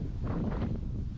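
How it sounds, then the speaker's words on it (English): Wind buffets the microphone in a low, steady rumble with slight gusts, close and fairly loud, lasting about a second. "oh, it's so windy."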